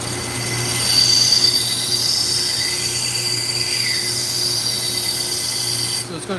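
A knife being sharpened to take nicks out of the blade, giving a continuous, even grinding rush with thin high whining tones that holds steady throughout and breaks off at the very end.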